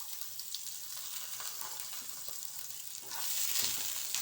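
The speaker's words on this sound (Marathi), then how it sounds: "कांदा टाकत आहे।" Onion sizzles and crackles in hot oil for Hakka noodles, a steady close frying hiss that swells louder toward the end.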